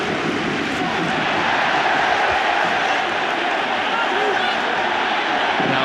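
A rugby crowd at a Toulouse versus Leinster Heineken Cup quarter-final roars and screams continuously, a dense, loud wall of cheering with commentary over it.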